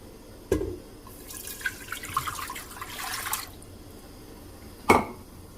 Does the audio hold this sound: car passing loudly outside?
no